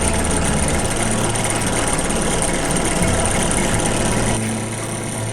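A Harbor Freight drill press motor runs steadily with a wobble, giving a loud, continuous mechanical hum and rattle that close by drops slightly in level near the end.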